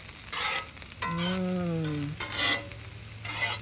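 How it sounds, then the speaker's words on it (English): Food sizzling and being stirred in a pan while cooking kale, bursts of frying crackle coming and going under a steady low hum, with a brief tonal squeal in the middle. "you can hear them sizzle"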